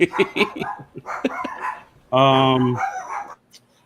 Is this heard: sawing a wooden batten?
no